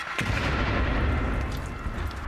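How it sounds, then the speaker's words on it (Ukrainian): Several mortar shells explode close to a frontline dugout near Avdiivka, a dense, sustained roar of blasts and rumbling booms filling the whole stretch, loud and continuous with no speech. "Потім вибухають ще декілька мін."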